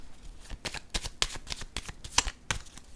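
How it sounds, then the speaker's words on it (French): Playing cards are shuffled and set down during a card reading, giving a quick run of crisp riffling snaps and soft flicks in an uneven rhythm, close and fairly quiet, with no talking. "Je vais déposer une autre carte ici."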